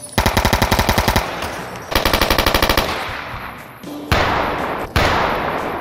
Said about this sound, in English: Outside, you'll hear gunshots echo in the open air of the wasteland.